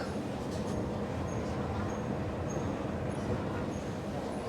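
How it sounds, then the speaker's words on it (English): A steady low rumble of a driverless metro train in Sydney running along the track, with a faint high whine drifting in and out, continuous and unbroken. "Jump on the robot train"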